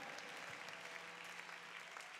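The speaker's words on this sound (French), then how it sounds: "Des acclamations" A church congregation applauds at a French-language sermon, a faint, steady patter of many hands clapping at a distance, with no voices standing out.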